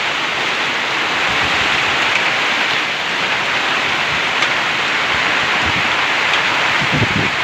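Heavy storm rain pours down at a turkey and chicken farm, a dense, loud, unbroken hiss that holds steady throughout with no voices.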